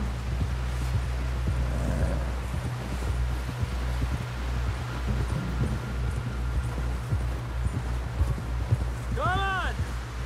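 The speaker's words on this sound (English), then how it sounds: "Someone help John down off this horse." Steady hoof clip-clops from a horse moving at a quick pace in the video game Red Dead Redemption 2, under a low rumbling background and occasional voices, with a brief whooshing sweep near the end.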